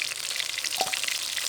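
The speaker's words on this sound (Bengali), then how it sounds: "মাছগুলো ভাজা হয়ে গেছে" Bata fish frying in hot oil in a village kitchen: a close, steady, crackling sizzle with small pops and bubbling throughout, no voices.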